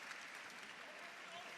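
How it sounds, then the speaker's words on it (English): Arena crowd applauding hustle during a professional basketball playoff game, steady dense clapping sustained through the whole clip, fairly faint and distant. "he hears the applause for the hustle"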